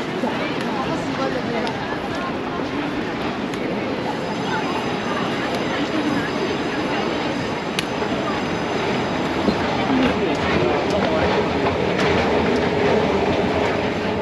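A train in Taiwan rumbles steadily with rolling wheel and carriage noise, loud and close, while people talk over it throughout.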